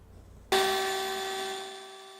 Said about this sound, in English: we're going to be taking it over to the bandsaw, and we'll cut it out as close as we can to these lines